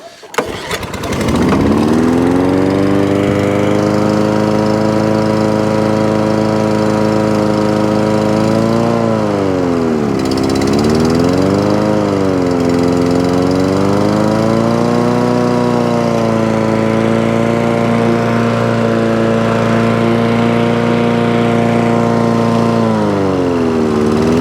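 A Honda HR21 lawn mower engine starts on choke and keeps running loudly and close, its steady drone wavering in pitch partway through as the revs dip and recover.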